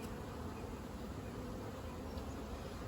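Honeybees from a strong overwintered colony buzz in a steady, dense drone during a hive inspection, faint and continuous with no voices.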